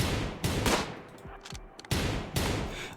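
Shots ring out in the zombie video game Zombies in the Fog, a handful of loud, close blasts at irregular intervals with brief rumbling tails and quieter clatter between.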